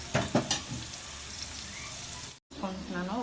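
Onions frying in a pan for a fish tamarind curry being stirred, producing a sizzle with a few sharp scraping strokes near the start, then steady frying, and a brief voice at the end.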